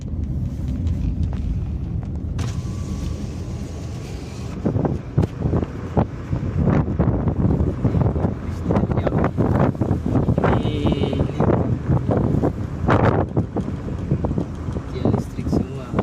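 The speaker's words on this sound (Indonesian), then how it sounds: "saat hujan atau angin kencang berlindung di tempat aman" Strong wind gusts roar against the microphone during a storm in Pinrang Regency, a rough rumbling buffet that swells louder partway through and continues as people speak nearby.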